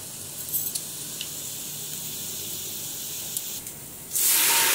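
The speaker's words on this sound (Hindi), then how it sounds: "इधर से हमारा प्याज फ्राई हो रहे हैं, ये देखें" Onions frying in a pan at home while a kaddu dal curry is cooked, a steady close hiss of sizzling oil that holds evenly for several seconds and then swells louder and brighter near the end.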